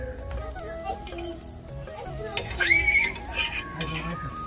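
A potato and flour snack fries in a pan with only a little oil, giving a soft steady sizzle. A flip brings a few light clinks and scrapes of a utensil against the pan.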